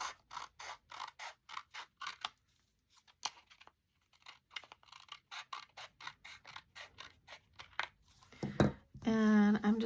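A paper art tag decorated with distress inks and texture paste is trimmed across the top. Close, regular crunchy snips come in quick series with a short pause between runs, and a voice briefly sounds at the very end.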